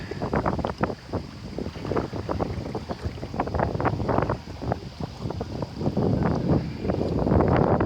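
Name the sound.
water waves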